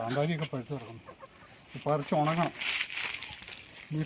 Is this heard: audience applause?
no